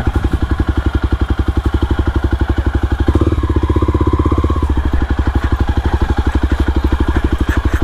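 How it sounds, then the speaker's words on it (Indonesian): A motorcycle ridden up a steep hiking trail on Puncak Upas, Mount Tangkuban Parahu, its engine thumping in a loud, close, rapid pulse with a brief rev in the middle. "ini orang kok bisa naik motor"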